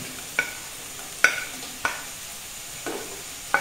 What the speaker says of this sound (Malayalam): ഇനി ഇതിലോട്ട് നമ്മുടെ ക്യാരറ്റും ബീട്രൂട്ടും ഇടുക. ഇട്ട് വഴറ്റി